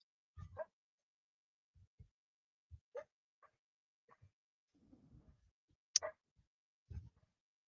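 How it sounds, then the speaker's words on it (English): Dogs give scattered, faint barks from a distance in a quiet outdoor setting, with short sparse yelps and a higher honking call that may be geese, separated by long silences. "Hear the geese in the background and barking dogs."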